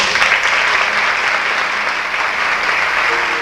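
Loud, sustained applause from the audience at a children's tap dance recital, a thick wash of many hands clapping evenly throughout.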